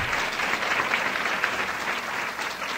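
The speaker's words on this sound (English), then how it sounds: "let's give Holly and the entire committee a big round of applause" An audience applauds a committee at a gathering of officers' wives, with dense, steady clapping that holds at an even level throughout, close and full.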